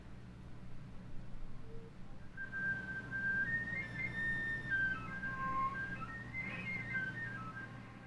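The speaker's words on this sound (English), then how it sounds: "when I'm doing a whistle tone, I can't even really give an example of it out here" Thin, airy whistle tones on a flute drift and bend between pitches, soft and delicate, played alone without any talking.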